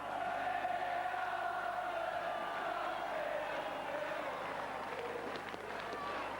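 A big stadium crowd cheers and applauds the Aberdeen players, the 1979/80 league champions, during a celebration lap, a steady roar heard from a distance and sustained throughout.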